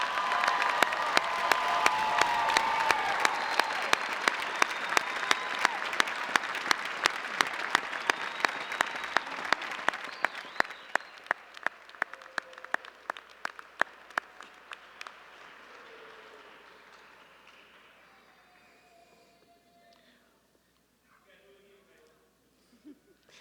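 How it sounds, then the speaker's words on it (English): A commencement crowd at EKU applauds graduates with loud sustained clapping and some cheering, with sharp rhythmic claps punctuating it, then thinning and fading over about twenty seconds to near quiet. "join me in one more round of applause for these outstanding graduates today"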